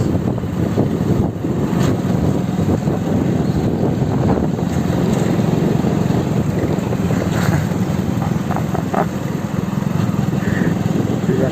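Superbike engine at speed, a steady loud roar buried under heavy wind buffeting from riding, continuous throughout with no clear gear changes; no talking.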